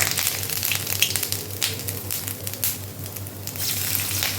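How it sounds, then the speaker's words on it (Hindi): Ginger frying in hot oil for a tempering, giving a steady close sizzle with crackling bursts that rise and fall throughout, with no talk. "अब हम ऑयल में सबसे पहले थोड़ा सा अदरक का तड़का लगाएंगे"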